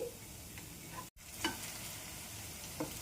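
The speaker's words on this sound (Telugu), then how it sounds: "ఒక పక్క కాలిపోయింది అనమాట రెండో వైపు తిప్పుకుందాం వీటిని" Snack pieces shallow-fry in a pan with a soft, steady sizzle, quiet and close, broken by a few light stirring clicks as the pieces are turned.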